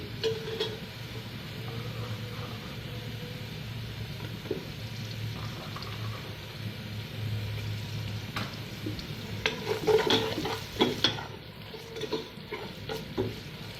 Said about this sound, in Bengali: পেঁয়াজের কালারটা পাল্টে যাচ্ছে, সুন্দর করে ভেজে নিব।